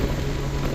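Steady wind buffeting the microphone outdoors at Narbonne-Plage on a rainy, gusty day, a continuous low roar with no pauses from start to finish.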